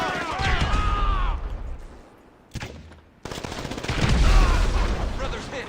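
Gunfire and grenade blasts in the GTA 5 Online video game, a dense loud stretch of rapid shots and booms, a brief quiet gap, then another heavy burst of firing.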